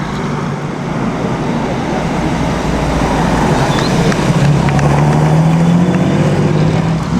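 A Bugatti's engine roars steadily and loudly along a Mille Miglia road, a continuous deep rumble with a rising tone near the end as the car draws close and passes.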